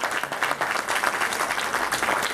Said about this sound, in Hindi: एक बार देश की बेटियों के लिए जोरदार ताली मारो।